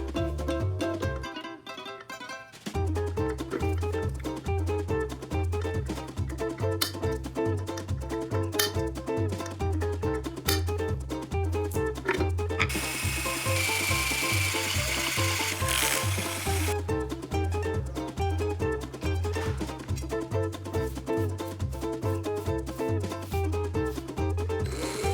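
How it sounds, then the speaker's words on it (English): A metal tube is cut with a rapid, steady sawing rasp, regular strokes continuing for about 25 seconds after a short pause at the start, loud and close with no talking. "You're going to cut the metal tube into 3 pieces."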